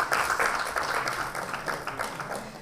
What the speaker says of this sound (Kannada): ಇವರಿಗೋಸ್ಕರ ಚಪ್ಪಾಳೆ